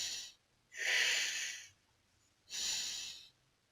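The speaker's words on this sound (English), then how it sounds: "This is chest breathing." A person demonstrates chest breathing with two loud, close, forceful breaths, each lasting about a second, separated by a brief quiet pause, with no speech.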